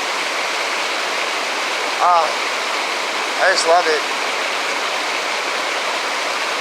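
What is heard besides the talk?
loud flowing river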